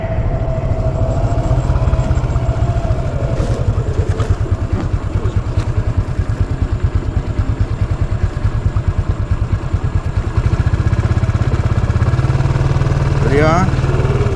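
A motorcycle engine runs close and loud with a rapid, steady thumping pulse, rising slightly near the end, by a river bridge, with speech partly heard over it.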